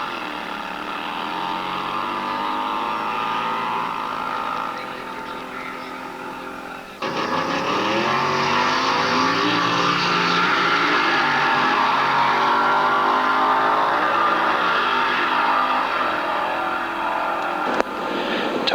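A 1960s British drag racing car runs without its blower, fitted with twin choke carburettors and tuned headers, its engine droning hard at full throttle, then jumping louder and harsher midway and holding a sustained roar.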